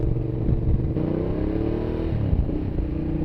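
A Ducati Diavel cruiser motorcycle's engine revs up from a rumbling idle, a deep throaty drone rising and falling in pitch as the throttle opens, close and loud with no talking.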